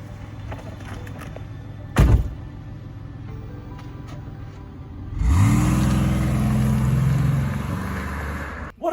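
A police car with its blue lights on starts off after a sharp thump, its engine rising into a loud, steady rumble that builds and then eases as it drives away.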